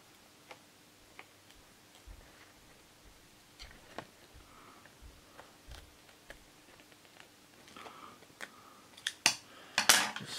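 Scissors cutting into a plastic CD case, a string of faint, crisp ticking snips at an uneven pace that grow into louder crackling clicks toward the end.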